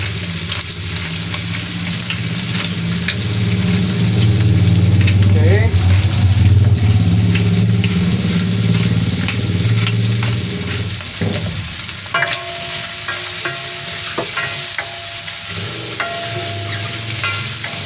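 Chicken liver and gizzard sizzle and fry steadily in a hot pan, close and loud with occasional stirring scrapes, and a voice talks over the cooking in places.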